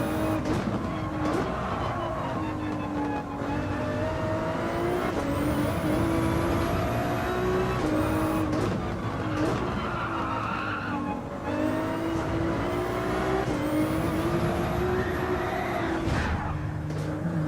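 A race car in Gran Turismo 7 at Yas Marina, engine droning loudly through revving gear changes while tyres skid and squeal in corners, continuous and close, with no talking.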